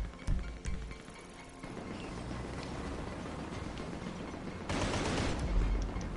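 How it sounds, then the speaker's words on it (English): Gunfire rattles in a GTA online shootout, rapid bursts of automatic shots layered over a steady engine-like rumble, dense and fairly loud, with a heavier stretch near the end. "Where did that guy go that was shooting us?"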